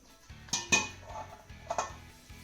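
Metal clinks and scrapes as bajra flour dough is packed into a metal sev press fitted with a fine sev plate, a few close clattering taps and knocks over quiet pauses.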